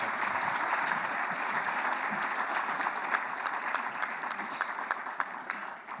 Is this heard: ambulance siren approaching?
no